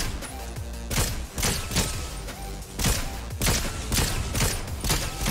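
Gunfire in the Fortnite battle royale video game, with repeated loud shot bursts popping out at irregular intervals over a dense, busy game soundscape.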